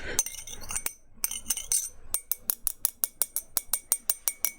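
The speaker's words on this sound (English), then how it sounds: "Standard dense glass sounds." Glass being tapped and clinked, first in a quick cluster of bright hits, then in a steady run of evenly spaced sharp taps that ring briefly, close and clear with no talking.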